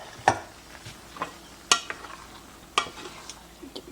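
Pasta being stirred in a cooking pan, a handful of sharp utensil scrapes and clinks against the pan over a low sizzling background, close and irregular, with no talking.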